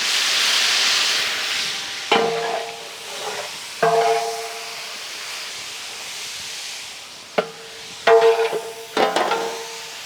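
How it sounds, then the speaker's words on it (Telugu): Sliced onions frying in a pan for a mutton fry biryani, a steady sizzling hiss punctuated by several sharp stirring scrapes and clatters. "నెక్స్ట్ దీంట్లోకే మనం సన్నగా తరిగిన ఉల్లిపాయలు యాడ్ చేద్దాం."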